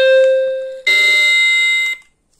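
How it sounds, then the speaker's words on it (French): A small Tuya Zigbee alarm siren, rated around 100 decibels, lets out a loud, piercing electronic tone close by, first a steady pitch, then a harsher, wider blast lasting about a second before it cuts off. "la sirène d'alarme est très très puissante de ces petites sirènes-là"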